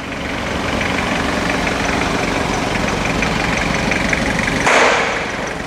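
A 1990s Toyota Hilux engine idles steadily, a loud, even low rumble that continues throughout, with a brief burst of broadband noise near the end and no talking.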